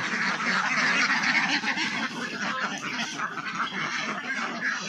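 A flock of egg-laying ducks quacks and honks in a dense, continuous chorus close by. The overlapping calls stay loud throughout.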